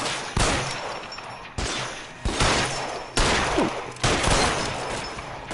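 Gunfire in the video game L.A. Noire, a series of about six loud, sharp shots spaced roughly a second apart, each followed by a brief ringing decay, close and prominent with no talk.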